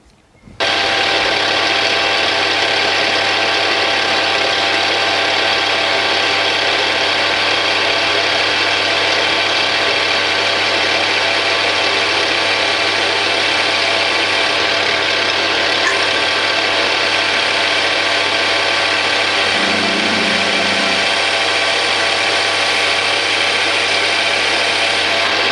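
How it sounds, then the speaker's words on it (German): A Bernardo P 600 G metal lathe drills into a Grade-2 titanium ring with a standard drill bit. A steady mechanical whine and hum runs through the whole stretch, close and loud, with a brief lower tone near the end. "Jetzt schauen wir dann, wie es beim Bohren tut."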